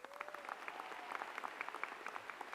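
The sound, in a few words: convocation audience applause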